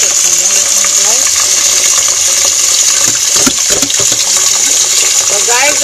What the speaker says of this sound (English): Now you can put some water in it